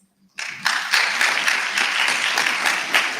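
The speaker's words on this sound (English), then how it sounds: "let's give another round of applause" An audience at a student representative council induction ceremony breaks into sustained applause, a dense wash of many hands clapping that starts abruptly and continues steadily, loud and close.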